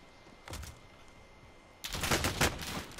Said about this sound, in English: somebody behind us shooting